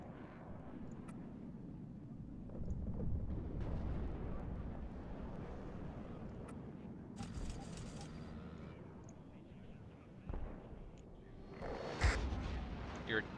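Artillery fire in the Warno war game comes as faint, distant rumbling and a few sharper blasts late on, with aircraft-like drone and occasional talk underneath.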